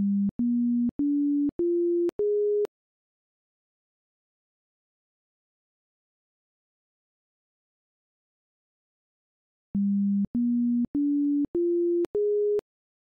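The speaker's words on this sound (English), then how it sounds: "Notice that we have multiple tones in this file." Synthesized sine tones generated by a Python script play as two identical runs of five short steady beeps, each a little higher in pitch, separated by a long stretch of silence; clean and electronic with no other sound.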